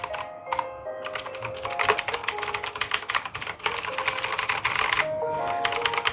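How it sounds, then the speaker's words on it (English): An Amkette Evo Fox Katana mechanical gaming keyboard is typed on in a fast, continuous run of close, crisp, clacky keystrokes. The brief pauses and the quiet stretches carry faint tones in the background. "Just listen to that. This is a mechanical keyboard"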